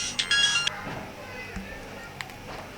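A short electronic ringtone chimes briefly at the start, then fades into quiet background noise with faint scattered clicks.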